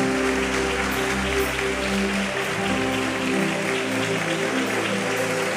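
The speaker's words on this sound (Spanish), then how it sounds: "Vamos a darle un aplauso al Señor Jesús en esta noche." A church congregation applauds during an evening sermon, steady clapping over a sustained musical backing with low tones, continuous and fairly loud throughout.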